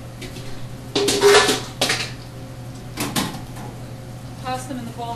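A restaurant fry basket of french fries is lifted from the oil and shaken, giving a few loud metallic rattling clanks against a steady kitchen hum, with brief talk.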